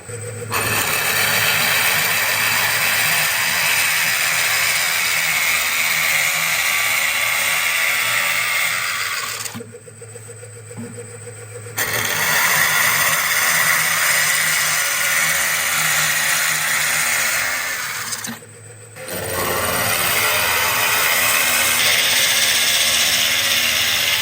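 A power drill bores with a drill bit in a workshop, a loud, continuous grinding whine that runs in long stretches with two brief dips, alone and without talk.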